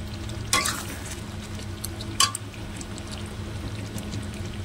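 Chicken mughlai sautéing slowly over low heat in a pan, a quiet steady sizzle with two sharp metallic clanks of a utensil or lid, close and fairly faint, no speech.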